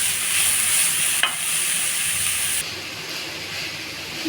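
Carrot halwa mixture fries in ghee as it is stirred in a pan, giving a steady, close sizzling hiss with a brief scrape partway through. The sizzle softens slightly toward the end.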